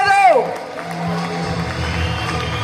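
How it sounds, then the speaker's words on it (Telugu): An audience at a seminar cheers and starts clapping for the speaker, a crowd roar building under a voice that is briefly heard at the start. "సార్కి ఒకసారి గ్రాండ్ గా క్లాప్స్ ఇద్దామా?"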